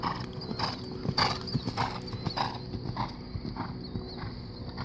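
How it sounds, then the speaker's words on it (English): A horse canters in dressage training with rhythmic three-beat hoof thuds and clip-clops on the arena surface, fairly close, and a brief whinny can be heard. "Simmer that canter down just a little bit."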